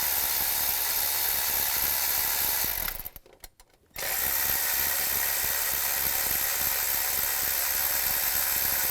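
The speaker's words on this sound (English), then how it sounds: "You might have to use a ratchet wrench for the bottom one." Ratchet wrench turning thermostat housing bolts on a 2008-2017 Buick Enclave, a dense continuous clicking that breaks off briefly near the middle and then resumes, close up.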